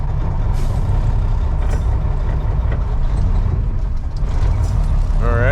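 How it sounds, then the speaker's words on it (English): A manual-transmission delivery vehicle starts a left turn on a hill in Midtown Atlanta, its engine a loud steady low rumble with traffic noise around it and a brief rising tone at the end. "I'm just feathering my clutch right now to make sure I don't stall."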